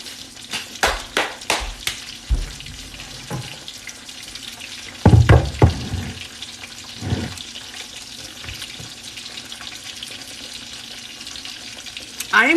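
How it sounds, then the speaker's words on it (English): Pork cutlets fry in vegetable oil in a pan with a soft, steady sizzle. Clattering, scraping taps and a few louder knocks and handling sounds break in at irregular intervals. "I am using vegetable oil right now to fry in."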